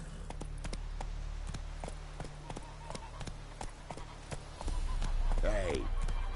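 A horse galloping in The Witcher 3, steady clip-clop hoofbeats at a brisk even rhythm, close and fairly loud, with a short voice calling out near the end.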